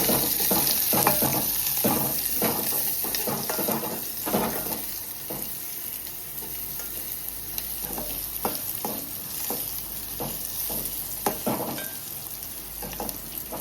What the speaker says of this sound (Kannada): ಇದು ಇವಾಗ ನಾವು ಕಂದು ಬಣ್ಣ ಬರೋ ತನಕ ಹುರಿಬೇಕಾಗತ್ತೆ ಸ್ವಲ್ಪ ಹೊತ್ತು.